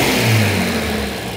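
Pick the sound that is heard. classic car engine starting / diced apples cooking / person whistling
classic car engine starting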